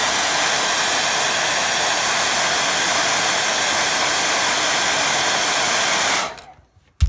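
A hair dryer blows on a watercolour mountain-reflection painting with a loud, steady whooshing roar that runs continuously for about six seconds, then cuts off abruptly into near silence.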